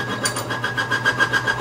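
A greased bearing squeals under weighted load during an extreme pressure test, a steady high whine with a pulsing, rhythmic grind from the spinning rig running continuously throughout.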